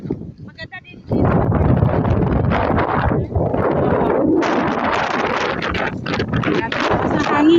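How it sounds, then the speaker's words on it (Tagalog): A strong wind blows outdoors in an old town, buffeting the microphone with a constant low roar while people talk over it. "Lakas ng hangin."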